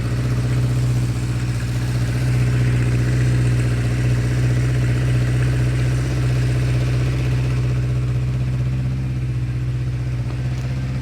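A 1976 Honda CB550 chopper idling close by, a steady, even low throb that holds without change from start to finish, with no talk over it.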